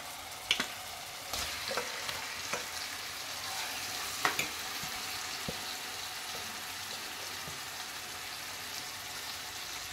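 About three-quarters of a kilo of chicken frying in a pan for curry, a constant close sizzle with occasional sharper crackles and stirring scrapes, no voices.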